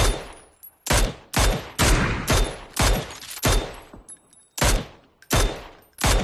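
Rapid bursts of automatic gunfire in a shooter video game, about a dozen sharp, loud volleys in quick uneven rhythm, separated by brief gaps with faint ringing tones.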